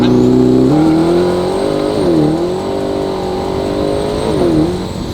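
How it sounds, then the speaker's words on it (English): A C8 Corvette ZR1 convertible fitted with a top-mount twin-turbo kit, heard from up close during an antilag demonstration: a loud, sustained engine drone with pitch dips and rises as the revs shift. "So now let's give you guys a quick demonstration of Antilag."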